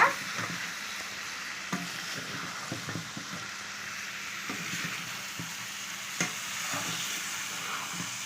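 Chicken coated in masala spices is stirred in a hot pan, a constant sizzling hiss under repeated scraping and knocking of a spoon against the metal, near and steady.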